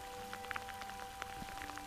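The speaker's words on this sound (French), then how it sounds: "Il pleut." Rain falls during a pike fishing trip, pattering as scattered drops on a surface, close and steady over a constant tonal hum with no voices.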